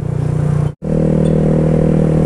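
Yamaha Mio scooter engine revving loudly up close just after an oil change, a steady buzzing drone cut by a brief silence before the revs return stronger.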